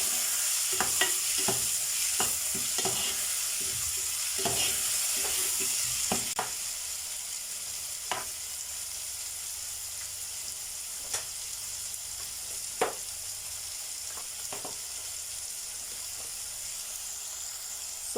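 Green grams and seasonings stir-fried in a pan, giving a steady close sizzle with scraping stirs that come more often in the first few seconds and then turn occasional.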